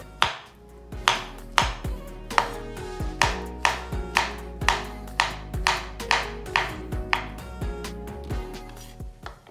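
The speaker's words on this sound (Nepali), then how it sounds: "केरालाई छोडाएर सानो सानो टुक्रामा काट्छौँ।" Banana cut into small pieces with a knife on a board for a lassi; about fifteen crisp, evenly paced chops, close and clear with nothing else heard.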